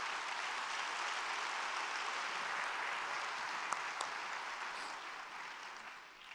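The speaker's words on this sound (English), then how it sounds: "a big round of applause to all the men and women that build our roads and our bridges and our buildings" Steady, dense applause from a large civic audience at a city address, sustained crowd clapping that fills the space evenly before easing slightly toward the end.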